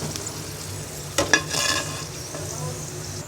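Dried plums (aloo bukhara) fry in hot oil in a pan over a low flame for a Bengali kacchi biryani, a soft continuous sizzle with a couple of sharper stirring scrapes near the middle.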